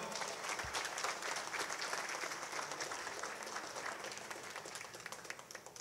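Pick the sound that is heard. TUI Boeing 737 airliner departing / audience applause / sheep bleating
audience applause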